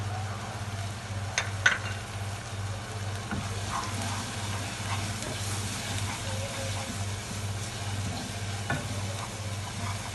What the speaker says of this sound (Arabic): احلى حاجه بقى لما ايه تحط التوابل كلها مع البصل والثوم، هما بيتعملوا سوتيه كده